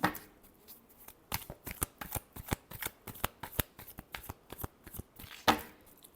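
Tarot cards shuffled by hand in a quick run of crisp riffling snaps and flutters, close and clear, with a louder burst near the end and no talking.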